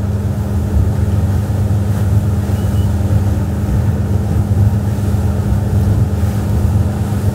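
A Nimbus T11 diesel motorboat cruises through waves, its engine a constant low rumble under broadband water and wind rush, loud and steady throughout with no voices.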